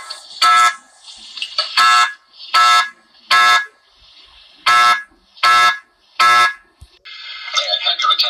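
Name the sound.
fire alarm ringing in a cartoon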